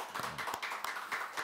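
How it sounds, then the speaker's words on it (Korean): A church congregation applauds during a Sunday worship service in Incheon. The clapping is steady and crowd-like, with scattered sharp claps over a soft, continuous patter, fairly faint and distant. "우리 남편들을 위해서 박수 한번 보내겠습니다."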